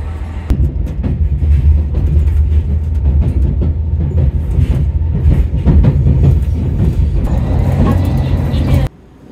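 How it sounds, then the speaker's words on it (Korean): A commuter train runs along the rails with a loud, continuous rumble and rhythmic clacking of wheels over track joints, heard from close by for several seconds before cutting off abruptly; a voice speaks briefly underneath. "예, 전철이 있습니다."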